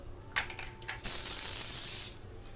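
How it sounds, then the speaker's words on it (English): A steady one-second hiss of a cooking oil spray can on the outside of hot dog buns in a pan, preceded by a few soft clicks and handling taps. "Spray the outside of them"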